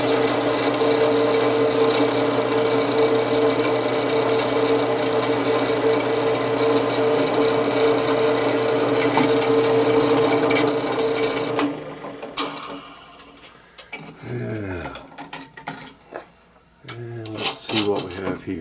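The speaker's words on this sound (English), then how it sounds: "Normally you would drill a smaller pilot hole first." A drill whines steadily with a high grinding tone for about twelve seconds while drilling a hole in metal on a Colt Walker revolver, then stops, followed by scattered clanks and handling noises.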